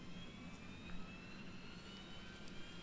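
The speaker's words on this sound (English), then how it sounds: "Let's hear that beautiful APU sound that we get with these plane." An Airbus A300 auxiliary power unit runs steadily in an iniBuilds flight simulator, giving a faint, continuous whine with a high tone over a low, even rumble.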